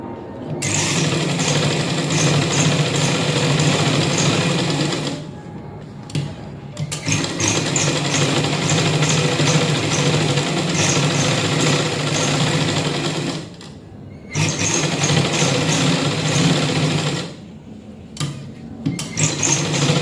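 An electric sewing machine stitching a blouse runs in long, steady whirring bursts, with several brief pauses between runs, close and fairly loud.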